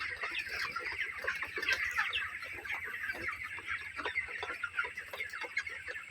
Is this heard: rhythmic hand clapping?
no